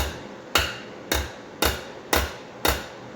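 Five evenly spaced, sharp metallic hammer blows on sheet metal being formed into headlight stanchions, each ringing briefly before the next, close and moderately loud with no talk.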